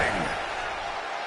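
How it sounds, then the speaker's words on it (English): A wrestler crashes down from a powerbomb in the WWE 2K24 video game, a loud broad slam at the start that fades into a sustained wash of arena crowd noise. "Oh, got caught. Powerbomb."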